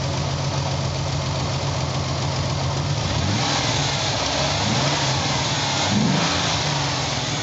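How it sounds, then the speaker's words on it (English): A 300k-mile Ford Bronco II engine, just after its clogged injectors were cleaned, idles smoothly and then revs up a few times. The exhaust note rises and falls over a steady, loud, close engine drone, with no talking. "Let's go back and listen to the exhaust."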